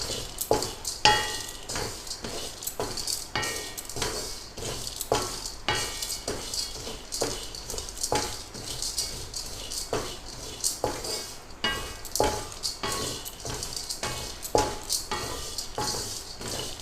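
Urad dal and chana dal dry-roast in a pan for idli podi, with repeated metallic scrapes and rattles of a ladle stirring the dry lentils at a regular pace over a faint background hiss, no voices.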